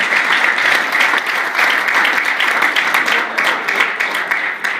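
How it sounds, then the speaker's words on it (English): Loud, sustained applause from an audience at a stage hypnosis show, a dense even wash of many hands clapping close by for several seconds with little variation. "Give my friends a big round of applause for relaxing even further."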